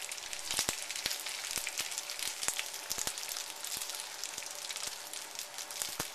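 Noodles frying in oil in a hot wok for Hong Kong style Cantonese chow mein with crispy thin noodles, a steady bright sizzle with scattered pops and crackles, close and continuous.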